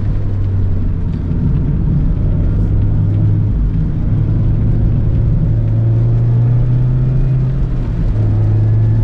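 A 2020 Mazda MX-5 Miata Club engine drones steadily as the car drifts on a rain-soaked road, a continuous close rumble with mild rises and falls in pitch and no talking.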